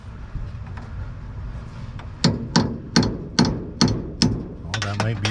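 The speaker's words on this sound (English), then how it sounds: "Take a hammer and a punch." Hammer and punch striking the shifter linkage of a column-shift three-speed car, seven sharp metallic blows in a steady rhythm, close and loud, after a stretch of quieter shop noise.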